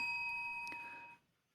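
A single bright electronic ding, like a notification bell, ringing out with a clean sustained tone that fades after about a second, faint and alone without talking.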